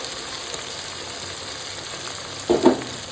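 Onions frying in a pan for a mutton curry give a steady, moderate sizzle, broken near the end by a louder burst of crackling as a spice paste hits the hot oil.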